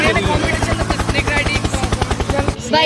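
A helicopter thumps loudly nearby, its rotor beating in a fast, steady rhythm, with voices underneath.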